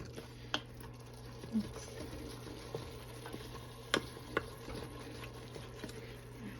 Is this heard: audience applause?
no